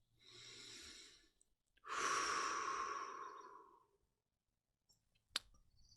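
Slow, deliberate breathing up close: a steady inhale, a short pause, then a longer, fuller exhale that trails off, followed by quiet and a faint click near the end.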